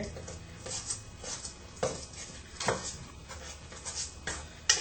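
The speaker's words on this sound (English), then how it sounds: "you're going to get your spoon and fold it over" A spoon scrapes and folds chocolate chips through thick cookie dough in a bowl, giving soft, irregular scraping and light clinks at a close, quiet level with no talking.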